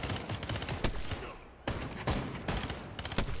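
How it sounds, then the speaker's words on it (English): Rapid bursts of gunfire in Fortnite Battle Royale crack repeatedly, close and loud, in a dense continuous volley with brief gaps. "Oh no, I'm getting shot at."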